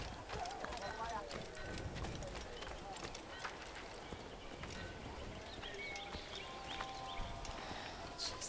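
Horse hooves clip-clop in the Assassin's Creed video game, a quick, steady run of hoofbeats with an occasional whinny amid faint game ambience, quiet and continuous throughout.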